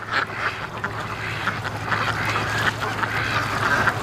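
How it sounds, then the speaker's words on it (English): Free-range ducks on a lake quacking in alarm as a big bird flies low overhead, a loud cluster of repeated quacks and honks rising through the stretch. "the ducks were warning everybody"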